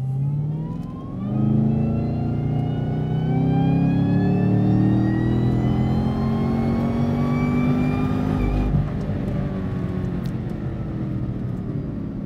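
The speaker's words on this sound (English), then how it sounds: "I've just selected third gear. Just coming onto the longest straight of the track, and I'm just going to go smoothly to full throttle" A car accelerates at full throttle in third gear along a track straight, the engine note climbing steadily and loudly for several seconds, dipping briefly, then holding a sustained high drone.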